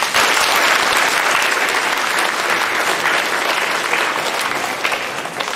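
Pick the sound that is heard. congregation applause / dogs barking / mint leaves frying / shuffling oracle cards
congregation applause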